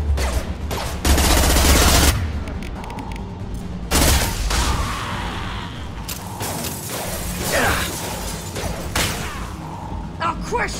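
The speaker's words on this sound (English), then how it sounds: "Taking fire." Gunfire in the Mass Effect 2 video game: loud bursts of rapid weapon fire and heavy booms come in waves, broken by short lulls of mechanical whirring and combat effects.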